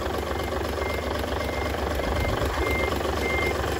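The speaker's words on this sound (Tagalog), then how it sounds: "ayan po yung makina natin" A Fuso six-cylinder diesel tractor-head truck engine idles steadily close by with a constant rumbling drone and a persistent high-pitched whine over it.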